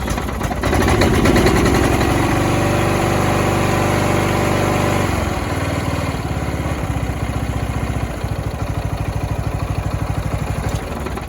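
A 25-year-old Briggs & Stratton 12.5 hp flathead engine on a Weedeater riding mower idles steadily, in neutral with the blade disengaged, a loud, close, rough rumble with mechanical clatter that shifts pitch slightly partway through.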